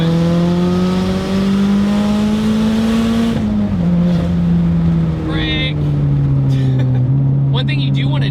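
A turbocharged Mazdaspeed3 hatchback engine revs steadily upward under load in third gear, a loud continuous drone climbing in pitch, dipping briefly at a shift before pulling again.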